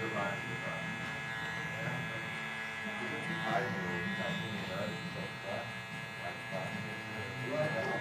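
An electric hair clipper with the guard removed, bare blade set very short, buzzes steadily and close by while cutting a low fade, with a voice talking over the hum.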